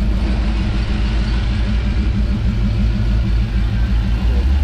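Hellcat-swapped Dodge Ramcharger at Cars and Coffee in Nashville: a loud, deep engine rumble idling steadily up close, with a pulsing low throb and a slight rise in revs throughout.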